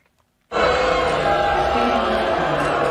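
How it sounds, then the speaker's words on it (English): After a moment of near silence, a theater audience at the Kennedy Center bursts into loud, sustained booing aimed at the Vances, a dense crowd roar that holds steady to the end. "Here is the sound of the boos from last night."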